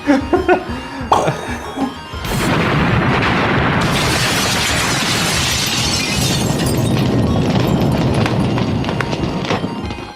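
An atomic bomb blast in the Street Fighter spin-off film Future Cops erupts into a loud, sustained roaring rumble after a few short coughing voice sounds at the start.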